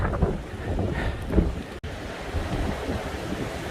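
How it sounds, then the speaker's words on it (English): Strong wind buffets the microphone in continuous low roaring gusts, with one brief dropout midway. "may not be able to hear me, it's so windy."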